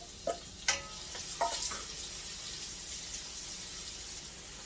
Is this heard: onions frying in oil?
yes